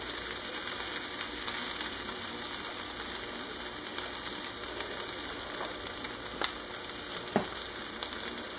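Pork chops seasoned with herbes de Provence fry steadily in a pan, giving an even, continuous sizzle with small crackling pops throughout, close and moderately loud, with no talk.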